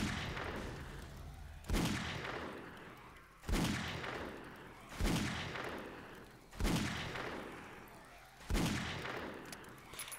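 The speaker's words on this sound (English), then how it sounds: "The Magnum is enjoyable to shoot, and it's fairly accurate." Magnum pistol fire in the video game 7 Days To Die: five loud, heavy shots about every 1.7 seconds, each followed by a long fading echo, close and alone without speech.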